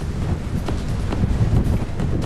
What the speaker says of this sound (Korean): 시간이 갈수록 점점 거세지는 파도. 파도는 배 안까지 물을 뿌려댑니다.